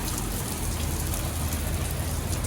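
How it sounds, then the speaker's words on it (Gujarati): Heavy rain pours down in a steady, dense hiss that stays loud and even throughout, with no voices. "તાકાતથી વરસાદ આવે છે મસ્ત."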